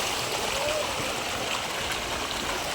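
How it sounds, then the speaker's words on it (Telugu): A continuous splashing rush of water spilling over a small hillside waterfall nearby, steady and fairly loud throughout. "ముందట వచ్చేసి ఒక జలపాతం ఉంటుంది"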